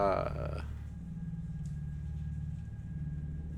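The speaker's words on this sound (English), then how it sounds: "like subtly urban, perhaps, like distant traffic, like midnight level" Distant urban traffic forms a subtle late-night ambient bed, a low steady rumble with faint tonal hums, following a brief burst of voice at the very start.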